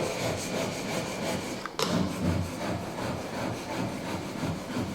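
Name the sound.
chisel sharpened on coarse diamond stone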